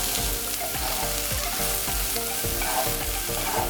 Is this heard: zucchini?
yes